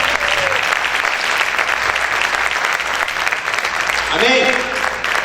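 Loud, sustained applause fills a church service during a fasting service, steady clapping from a congregation throughout with voices and shouts rising near the end.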